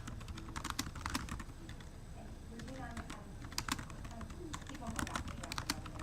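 Rapid clicking keystrokes on a computer keyboard, close and fairly quiet, coming in uneven bursts with short pauses, while a voice talks faintly over them.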